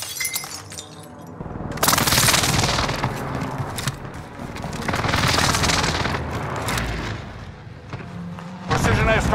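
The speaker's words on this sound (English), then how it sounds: "Precision airstrike missed." A precision airstrike in Call of Duty Warzone on Fortune's Keep brings loud booming explosions and shattering debris in several heavy waves, along with scattered gunfire, while voices talk over the battle.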